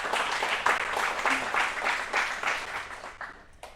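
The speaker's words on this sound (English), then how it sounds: "give them a round of applause for joining us tonight" Audience applause at an evening product meetup talk in Singapore, a medium crowd clapping steadily at close range, with a faint voice briefly underneath before the clapping thins out at the end.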